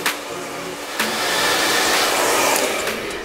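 A hair dryer blows hot air during a sleek blowout, a steady, loud, close whoosh with a brief bump near the one-second mark and no talking.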